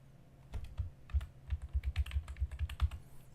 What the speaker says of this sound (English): Typing in the word